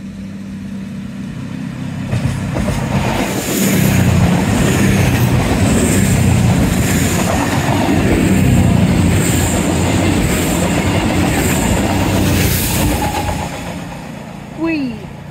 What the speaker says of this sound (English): another slow moving train heading in the same direction as the other one